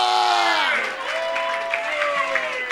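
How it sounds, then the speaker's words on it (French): A church congregation cheers and applauds, with loud voices shouting and whooping at first and then clapping and crowd noise carrying on. "Hey, acclame Jésus-Christ."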